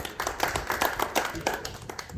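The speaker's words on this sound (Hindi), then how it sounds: "एक बार पहले इनके लिए ताली बजा करके सम्मान" A small audience claps in honour of a man recognised in Mumbai for boycotting the death feast, a brief patter of distinct hand claps at moderate level, fairly close, with no talk over it.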